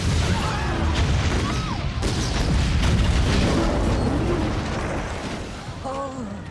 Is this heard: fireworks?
yes